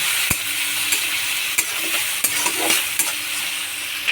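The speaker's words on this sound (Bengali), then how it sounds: "চিংড়ি মাছটাকে ভালো করে ভেজে নেবেন" Shrimp sizzle steadily in hot oil, a dense continuous crackling hiss broken by a few soft stirring clicks.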